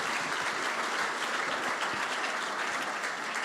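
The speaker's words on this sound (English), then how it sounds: "I think that deserves a round of applause" Applause at the Rolex LPGA awards ceremony, a dense, continuous roar of many clapping hands from a sizable audience, steady and fairly loud with no talk over it.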